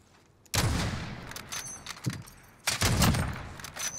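Bursts of gunfire from a shooting video game, two loud volleys of rapid shots separated by a quieter stretch with scattered single cracks, close and dominant with no talk.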